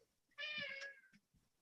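A cat gives a single clear, drawn-out meow lasting most of a second, close and fairly loud, with faint low rumbling before and after in an otherwise quiet indoor setting.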